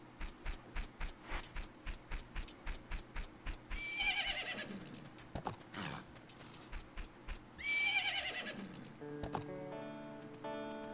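Epona the horse in the N64 game The Legend of Zelda: Majora's Mask: rhythmic clip-clop hooves give way to two loud, shrill whinnies, followed by a short melodic chime from the game.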